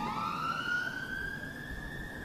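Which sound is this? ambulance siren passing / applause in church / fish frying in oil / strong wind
ambulance siren passing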